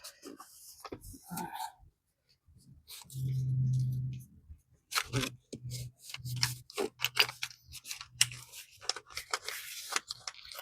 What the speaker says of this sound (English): I'll trim it, tear off this side over here, and tear around the edges.